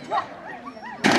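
Dog at an agility competition giving a short whining yelp with rising and falling pitch, close and fairly loud, ending with a sudden burst of noise.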